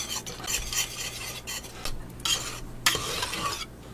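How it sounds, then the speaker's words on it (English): A utensil stirs ingredients in a pan so they melt, scraping and clinking against the metal in quick, uneven strokes over a faint sizzle, close and fairly quiet. "Add a little bit and then stir it in and let it melt."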